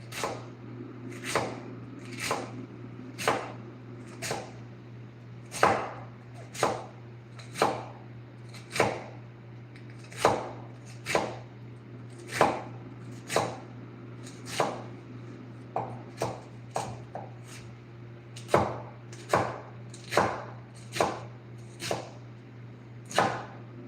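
A knife chops red cabbage on a cutting board, sharp regular thuds about one per second, close and crisp, over a faint steady kitchen hum, with a few quicker bursts of chops partway through.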